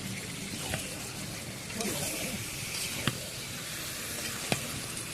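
Broiler chicken pieces hitting a hot pan one by one, a soft steady sizzle with occasional sharp clinks of utensils, close and fairly quiet, with someone talking at times.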